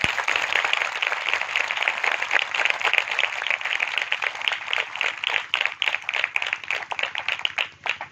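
A church congregation clapping loudly together in a dense, steady burst of applause that carries on for several seconds before thinning out slightly at the end.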